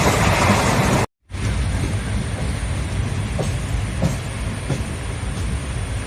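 A passenger train runs toward Thanjavur railway station, a loud steady rumble of rolling wagons with faint periodic wheel clicks after a brief cut, no talking.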